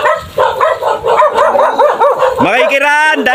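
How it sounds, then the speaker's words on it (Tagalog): A dog barks by a river where people are out fishing for tilapia, a run of sharp yips and barks rising over chatter, with voices talking throughout. "Bumatok na ang aso ni mga Ben."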